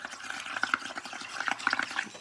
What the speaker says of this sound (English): I'm gonna start blowing bubbles here